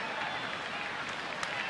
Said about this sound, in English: a lively crowd here on this Saturday night at Petco